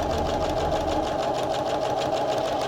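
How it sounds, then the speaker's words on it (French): A sewing machine runs steadily at speed, stitching a straight seam with the fabric placed wrong sides together; a continuous, even mechanical whir with no talking. "J'accélère un peu ma machine"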